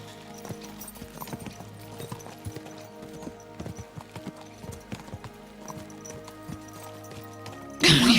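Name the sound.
horses galloping in video game Kingdom Come Deliverance 2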